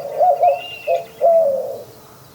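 Mourning dove cooing, a few soft hooting coos in a short phrase, clear and fairly close against a quiet background.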